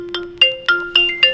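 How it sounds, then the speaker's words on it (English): A default ringtone preview plays on a vivo V15 Pro phone, with bright chiming notes struck in a regular quick rhythm over a sustained tone, clear and close, with no talking. "we can choose between the default ringtones that we have on the phone"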